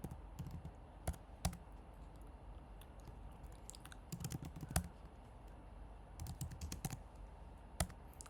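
Quiet, close computer keyboard typing enters an npm install command for a simple HR system project. Clusters of soft keystrokes are separated by short pauses, with an occasional sharper clack and no speech.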